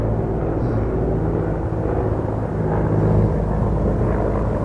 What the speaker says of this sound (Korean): 지금 뭐 헬기가 지나갑니다.